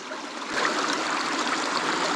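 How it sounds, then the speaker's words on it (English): Water starting to pour out of the pipe of a gravity-fed sluice dredge, a steady broadband rush and gurgle that swells a little after the first half second and then flows on continuously. "Yeah, I can see the water starting to come out."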